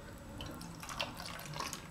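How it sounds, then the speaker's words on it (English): Hydrogen peroxide pours into a small bottle, a soft trickle with scattered gurgles and drips, quiet and close. "You're going to pour your hydrogen peroxide into here. Bloop, bloop, bloop, bloop, bloop, bloop."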